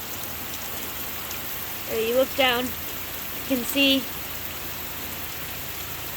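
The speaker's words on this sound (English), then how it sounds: "It is raining so hard." Heavy rain pours down on a Tennessee homestead in a steady, dense hiss that fills the whole stretch, while a person speaks briefly over it partway through.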